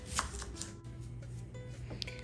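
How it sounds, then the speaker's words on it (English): Steady knife chopping an onion on a board, several quick crisp taps at irregular intervals, close and fairly quiet against a low background hum. "time to chop the onion"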